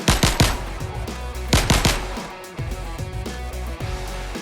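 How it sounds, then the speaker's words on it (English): Burst-trigger gun in the video game Bot Hunter firing quick three-shot salvos, sharp loud cracks in tight clusters with short pauses between bursts, heard alone. "Burst trigger on click performs quick 3-shot salvo"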